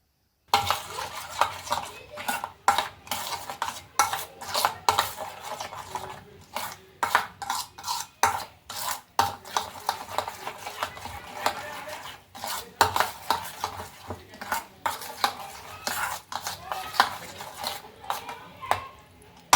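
A spoon scrapes and clinks against a bowl while curd, soda, cumin and salt are mixed for Mysore bonda batter, with repeated close, rhythmic stirring strokes and no talking.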